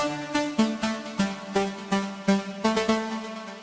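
A raw synth lead with no processing plays short, sharp, plucky notes in a quick, bouncy rhythm, each note cut off right away, clean and prominent with nothing else underneath.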